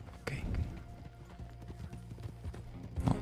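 Horse hooves clip-clop in a steady rhythm in the Western video game Red Dead Redemption II, with a faint whinny and someone talking over the quiet in-game sounds.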